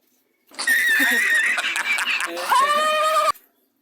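A goose gives a loud, harsh honking call up close, a few seconds of raspy, wavering cries ending abruptly.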